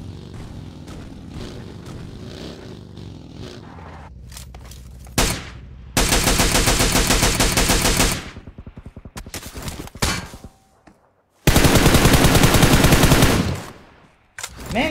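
PUBG Mobile battle royale gunfire, a low rumble and a few scattered shots, then two long, loud bursts of sustained automatic fire with a quieter stretch between them.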